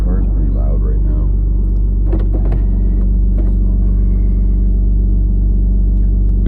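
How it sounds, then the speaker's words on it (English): Steady, loud low-pitched exhaust rumble from an idling 3rd-gen Mitsubishi Eclipse Spyder GT, continuous under a man's speech, with a few brief clicks mid-way. "So the car's pretty loud right now."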